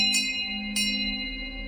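A silver bell in the Grim Rite video game rings twice in quick succession, each bright strike followed by a long, clear, sustained tone that slowly fades.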